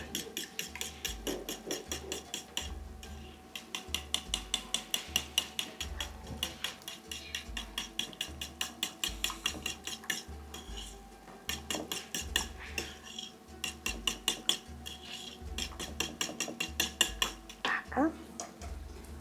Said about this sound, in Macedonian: И ќе ја матам.